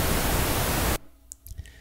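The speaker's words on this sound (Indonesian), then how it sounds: "Ini kalau diklik, mixer akan mengeluarkan pink noise yang berasal dari komputer" Pink noise from a computer played out through a mixer for RTA tuning: a loud, steady broadband hiss that cuts off abruptly midway, leaving faint room noise and a few small clicks.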